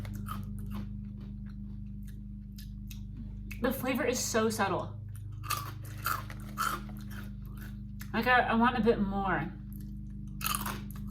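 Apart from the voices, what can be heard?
chewing crunchy barbecue Ringolos ring snacks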